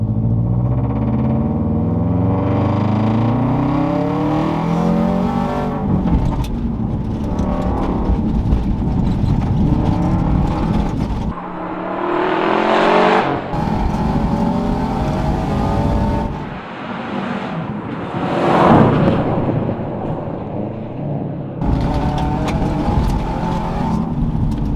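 A rally car driven hard by Fabrice roars loud and close, its engine climbing and dropping through repeated gear changes and revs, with brief lifts of the throttle between long bursts of acceleration.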